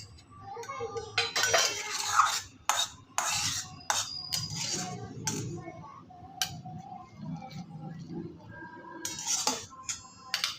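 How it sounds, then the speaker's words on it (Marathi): Crushed green chilli thecha being scooped from a vessel onto a plate, with close clinks and scrapes of a spoon on hard dishes that come in irregular bursts, with some quiet background noise between them. "आता आपण ठेचा एका प्लेटमध्ये काढून घेऊया."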